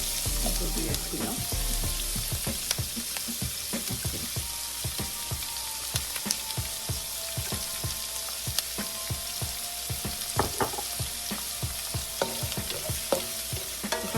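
Okra (bhindi) frying in about four tablespoons of oil with onions for a bhindi fry, giving a steady, dense sizzle and crackle throughout, dotted with frequent sharp spatula taps and scrapes, close and unbroken by speech.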